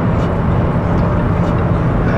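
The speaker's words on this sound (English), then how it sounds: "Helicopter." Helicopter in Ghost Recon Wildlands, a loud, steady low rotor and engine roar that holds constant throughout.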